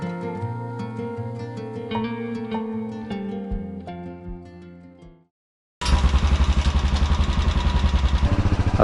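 Motorcycle engine on a road ride toward Purulia, with music fading to a short silence before a loud, steady, close engine drone.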